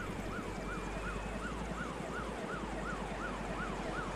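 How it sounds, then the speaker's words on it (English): Ambulance siren in an Arma game rally on Altis, a rising-and-falling wail repeating in a fast, regular cycle over a low engine rumble, loud and steady with no talk. "And we have ambulances on scene."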